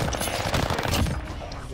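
Gunfire from the Zombie Rebirth video game clatters in a dense, loud automatic burst, rapid shots running together for under two seconds, with no talk.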